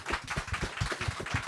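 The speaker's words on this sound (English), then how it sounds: "let's give these gentlemen a big round of applause" Audience applause at an evening book signing: a short burst of hand clapping from a modest crowd in an indoor room, with a steady patter of claps at moderate loudness and no talking.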